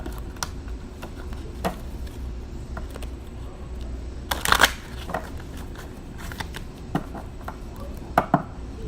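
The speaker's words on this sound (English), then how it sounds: "I'm going to pull a card from the Earth Magic Oracle." Oracle cards being shuffled in the hands, a steady papery riffling and slapping with a few sharper bursts, close and fairly loud over a constant background hum.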